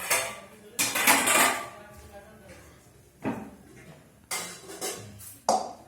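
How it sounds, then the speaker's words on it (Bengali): A kadai wok handled on and off a clay stove, with several loud metallic clanks and scrapes of pots and utensils in separate bursts, and a person speaking between them. "কড়াইটা আবার নামিয়ে দিলা কেন?"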